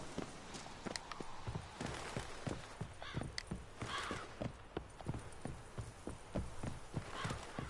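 Horse hooves clip-clopping in a steady trotting rhythm from a horse in the video game The Witcher 3, fairly close with some background game ambience.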